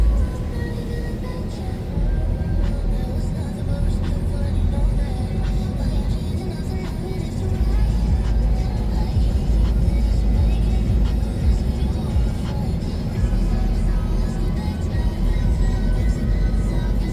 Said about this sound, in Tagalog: Maraming traffic dito.